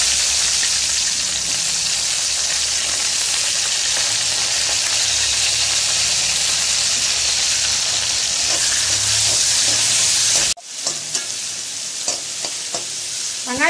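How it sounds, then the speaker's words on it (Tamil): Onions sauté in a pan with a loud, dense, steady sizzle and stirring for tomato rice; the sizzle drops abruptly near the end, leaving a few quieter crackles and clinks. "வெங்காயம் வதங்கிருச்சு"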